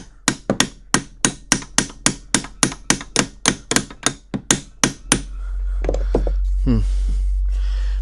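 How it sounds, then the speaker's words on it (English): About fifteen sharp metallic taps from a small brass hammer on a Black Diamond BW-90 drill grinder strike in a quick, even rhythm, followed by a low rumble and brief mechanical noises. "Try a couple of taps with the little brass hammer."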